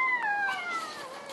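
A house cat gives one clear, drawn-out meow that falls in pitch, loud and close.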